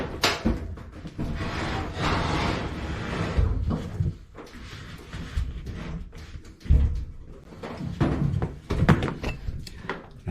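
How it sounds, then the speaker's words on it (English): A clothes dryer is pushed back into place, giving a run of thumps, knocks and scraping bumps at close range, irregular and fairly loud, with no talking. "Push the machine back."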